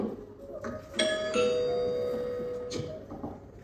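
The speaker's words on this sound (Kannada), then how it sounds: "ನೋಡ ಅಲ್ಲಿ ಬೆಲ್ ರಿಂಗ್ ಆಗ್ತಾ ಉಂಟು, ನೋಡು ಹೋಗು." A home doorbell rings with two bright electronic ding-dong chimes about a third of a second apart, the second tone lingering and fading over a soft indoor background.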